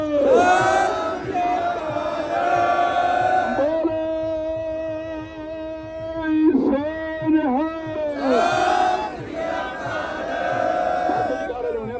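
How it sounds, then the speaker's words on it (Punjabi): A Sikh congregation at Fatehgarh Sahib, Sirhind, shouts the Bole So Nihal jaikara, with a loud, drawn-out voiced call rising and swelling in repeated waves. "ਬਾਵਾ ਖੜੀਆਂ ਕਰਕੇ ਜਕਾਰਿਆਂ ਦੇ ਨਾਲ ਗੂੰਜੋ ਬੋਲੇ ਸੋ ਨਿਹਾਲ"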